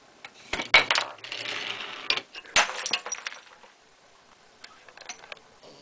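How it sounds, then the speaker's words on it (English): Brick dropping from a pulley in a Rube Goldberg machine smashes a piggy bank, giving a sharp crunch followed by coins clattering, jingling and scattering, then a few faint clinks settling into quiet; no talk. "crushing the piggy bank."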